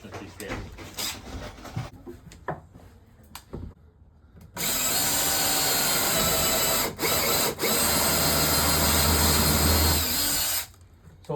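A power drill bores pilot holes into maple hardwood for screws, running loud and steady for several seconds with brief dips in speed, after scattered handling clatter and low voices nearby.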